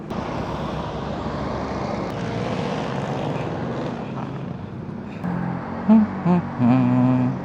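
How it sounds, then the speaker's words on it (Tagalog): A steady motorcycle engine roar with traffic-like rumble grows nearer, followed by a few louder revving bursts toward the end. "Naririnig ko na yung motor mo."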